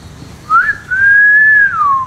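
A person whistles two notes, a short rising chirp followed by a longer sustained tone that slides down at the end, loud and close.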